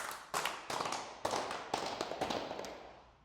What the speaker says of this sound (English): You can also adjust the tuning of the claps.